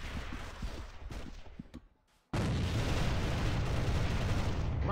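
A grenade goes off in a video game with a sudden loud, broadband blast that cuts in after a brief near-silent gap, followed by a sustained roaring rumble. Gunfire and combat noise come before it.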